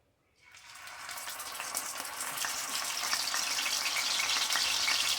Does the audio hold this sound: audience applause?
no